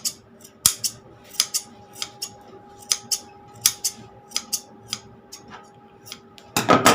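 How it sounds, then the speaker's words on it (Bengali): Scissors snipping scraps of cloth into small pieces, producing a run of crisp, irregular snips close by with a faint steady hum behind them and a louder clatter at the end. "এই টুকরো কাপড়গুলোকে আমরা এইভাবে কুচি কুচি করে নেব"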